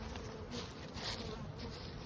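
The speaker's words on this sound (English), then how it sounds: "a lot of bees" Honey bees buzz at an open hive, a dense continuous drone close by and fairly quiet, with faint swells as bees move past.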